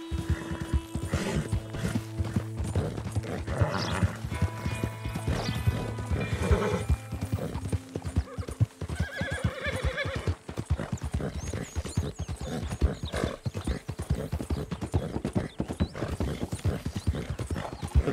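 Rapid rhythmic hoofbeats of a galloping horse in Red Dead Redemption 2 with occasional whinnies, steady and close, layered over busy game sound effects.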